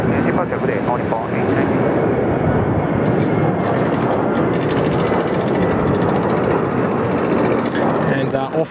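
Airliner taking off at Sydney Airport, a loud continuous jet roar that stays broad and steady throughout with a slight fade at the end.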